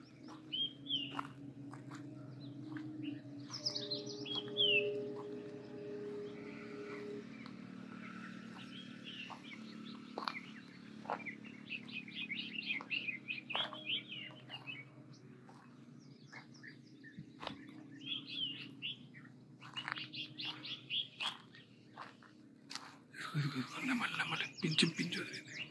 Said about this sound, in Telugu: వినబడుతున్నాయి గైస్ మొత్తం పక్షుల సౌండ్లు